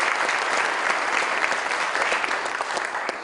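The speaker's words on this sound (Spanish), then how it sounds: "recibamos a Desiree también con un aplauso" A panel audience at a university IT conference applauds to welcome a speaker: dense, steady clapping from many hands that holds at an even level throughout, with no voices over it.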